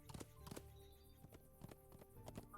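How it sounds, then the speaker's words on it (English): Horse mount hooves in the DDO video game clip-clop in a steady walking rhythm, fairly close and moderately quiet, with a faint voice low in the background. "Ooh, pretty horse, Saphira."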